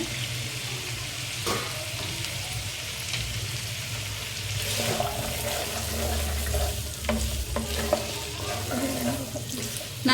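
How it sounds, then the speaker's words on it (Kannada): Cauliflower florets being washed in water for a Hyderabad-style vegetable kurma, giving a steady wash of splashing and running water with faint clatter throughout, growing slightly busier in the second half, with no talking. "ಹೂಕೋಸನ್ನ ಸ್ವಲ್ಪ ನೀಟಾಗಿನೇ ತೊಳ್ಕೊಬೇಕು ಯಾಕಂದ್ರೆ ಅದರಲ್ಲಿ ಹುಳಗಳೆಲ್ಲ ಇರ್ತಾವಲ್ಲ"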